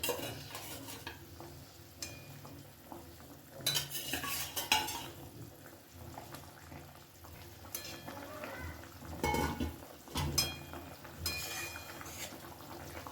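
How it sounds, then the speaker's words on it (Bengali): Fried rohu fish pieces go one by one into a bubbling fish curry, with intermittent spoon clinks against the pot and stirring over a low simmering sizzle, close and uneven in bursts. "ঝোল ফুটে উঠেছে এখন আমি এর মধ্যে ভাজা মাছগুলো একে একে দিয়ে দিচ্ছি"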